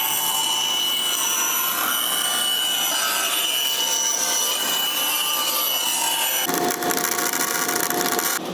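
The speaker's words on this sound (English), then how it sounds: "So we're gonna bandsaw that out." A bandsaw in a luthier's workshop cuts through guitar wood with a loud, steady, rasping whine. The tone shifts abruptly near the end of the cut.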